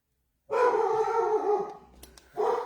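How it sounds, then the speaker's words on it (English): Puppies bark and howl nearby in a long, drawn-out yowling bark, then a short pause and another bark starting, with no talking heard. "Sorry about my puppies."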